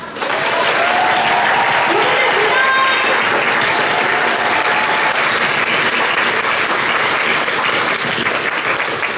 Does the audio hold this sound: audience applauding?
yes